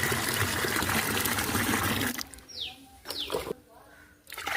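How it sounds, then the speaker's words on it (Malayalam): Fifteen litres of water gushes steadily into a bucket for about two seconds, then stops, followed by quieter sounds and a brief voice. "ബക്കറ്റിലേക്ക് ഞാൻ പതിനഞ്ച് ലിറ്റർ വെള്ളമാണ് ഒഴിച്ചത്"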